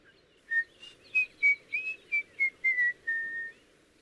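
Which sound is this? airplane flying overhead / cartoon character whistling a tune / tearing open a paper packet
cartoon character whistling a tune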